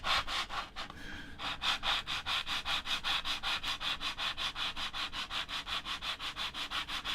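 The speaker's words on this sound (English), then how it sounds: "we can do a little bit of this sanding here" Rhythmic back-and-forth sanding on a competition chassis part, close and fairly quiet, the even scratchy strokes repeating steadily at about four per second with no speech.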